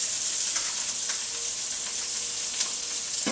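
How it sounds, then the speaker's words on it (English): Drained sausage hits shallots browning in hot olive oil, setting off a steady, loud sizzle with faint crackles and a soft scrape near the end. "we're going to add it to the shallots that have been browning up nicely in our olive oil"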